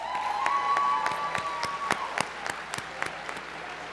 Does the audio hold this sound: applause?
yes